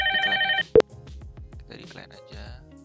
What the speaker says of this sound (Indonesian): Nah, dapat telepon ya dari Zoiper